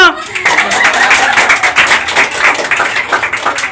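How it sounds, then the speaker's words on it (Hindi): A group gathered for a school Teacher's Day celebration bursts into close, loud clapping after a short opening sound, the hands beating fast and unevenly with some voices mixed in. "ओहो तालियां।"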